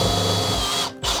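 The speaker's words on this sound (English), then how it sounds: "you're going to take a screw and install it in the center of the nail flanges on all 4 sides" A power drill drives a screw through the nail flange of vinyl siding, whirring loudly and steadily for about a second before briefly cutting out and then spinning up again, close by.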